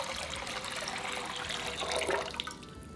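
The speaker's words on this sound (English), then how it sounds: "pour in the water." Water is poured from close by into a pot for Korean anchovy stock, a steady, fairly quiet splashing gush that swells briefly and then tapers off near the end.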